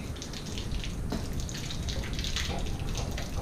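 Steady rushing water drains from a steam boiler valve during flushing to remove sludge, a broad hiss that holds at an even level for the whole stretch with no talking.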